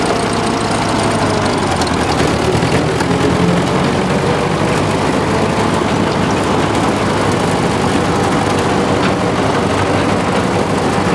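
A loud, steady engine runs continuously in second gear after a gear change, with a dense low rumble and no pauses.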